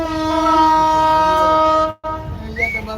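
Kopotakkho Express horn sounding loudly at Mirpur railway station, a long steady multi-tone blast that cuts off abruptly, followed by rumbling station noise and a brief higher whistle-like tone.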